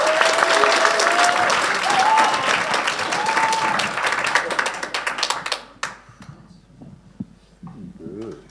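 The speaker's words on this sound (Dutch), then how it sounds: "Mag ik een heel groot applaus voor deze finalisten." An audience at a poetry slam final in a Rotterdam reading room claps loudly for the finalists for about five seconds. The applause then thins out into scattered claps and quiet talk.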